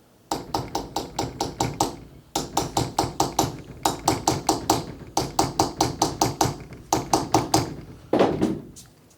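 A hammer drives a tiny star chisel into a gravestone during restoration, producing rapid bursts of sharp, ringing taps in quick runs of eight to ten strikes separated by brief pauses, loud and close.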